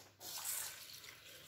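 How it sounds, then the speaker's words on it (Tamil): Water is poured into a bowl of soaking rice, urad dal and fenugreek, making a brief splashing trickle followed by a short drip, faint and close. "தண்ணி ஊற்றி நல்லா ஊற வச்சுக்கோங்க."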